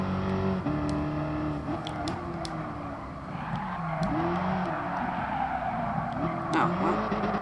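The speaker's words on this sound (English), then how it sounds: "This is actually really fun, drifting this about." A police car drifts in Gran Turismo Sport, its engine droning while the tires squeal in repeated long sweeping screeches, close and loud, with someone talking over it.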